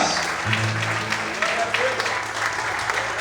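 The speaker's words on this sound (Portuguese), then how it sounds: "Quantos podem aplaudir e exaltar o Senhor nessa manhã?" A church congregation applauds during a morning worship service, a steady wash of clapping that runs through the whole stretch, with a low sustained tone and faint voices underneath.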